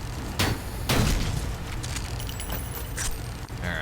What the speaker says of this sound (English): Just blew through a hole in the wall. But you know what? It's an explosion.